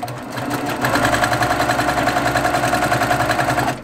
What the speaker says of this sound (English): I'm going to sew directly on the line.